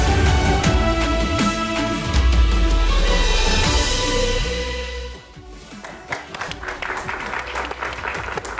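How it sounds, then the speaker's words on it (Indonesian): Loud studio audience applause at an Indonesian political comedy show, sustained clapping for about five seconds before it drops away, leaving scattered background noise and faint voices. "Ada tepuk tangan."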